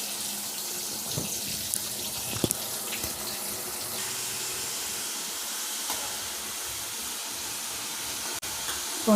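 Water drains from boiled potatoes in a steady, hissing pour, with a few sharp clinks of a pan or utensil. It is close and continuous, with no voices.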